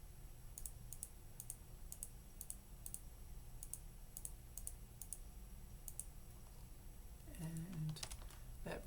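Rapid bursts of computer mouse clicking in quick succession, small sharp ticks repeating at an uneven fast pace, with a voice briefly speaking near the end.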